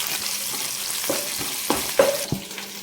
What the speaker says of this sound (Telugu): ఆయిల్ కొంచెం హీట్ ఎక్కిన తర్వాత దీంట్లోకి వెల్లుల్లి రెబ్బలు, కరివేపాకు వేసుకోవాలి.